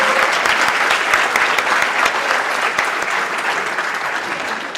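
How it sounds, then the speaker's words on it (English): Audience at a debate on whether God exists applauds continuously, a dense, loud wash of many hands clapping that holds steady throughout, without any voices. "can everyone give them another round of applause?"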